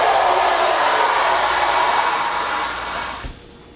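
Running water rinsing a Daiso pasta microwave cooker, a steady broad hiss of flowing water that cuts off near the end, close and loud with no talk.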